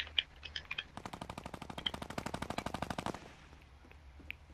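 Rapid automatic gunfire in Fortnite, a dense burst of evenly spaced shots lasting about two seconds after a few scattered single shots, fairly close and loud, then fading to quiet game ambience.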